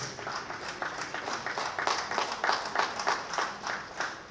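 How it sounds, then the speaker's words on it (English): An audience claps for a storyteller, a light, uneven spatter of individual hand claps from a small group that rises and falls in level throughout. "Let us give a big round of applause to the storyteller, Mrs. Nicolette"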